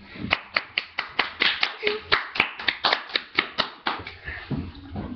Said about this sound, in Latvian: un tagad ar aplausiem mēs visi godīgi un tā visu